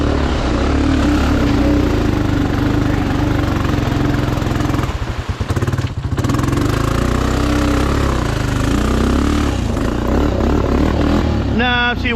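A lifted Honda Foreman 500 ATV engine is run at full throttle in second gear, giving a loud, steady, droning roar that holds for about twelve seconds with a brief dip in the middle.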